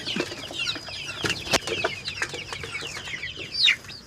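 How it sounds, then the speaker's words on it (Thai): Chickens on a small farm with breeding roosters and hens cluck in repeated short bursts close by, with one sharper high call near the end and no talking. "ไก่มีไม่เยอะครับ มีเป็น"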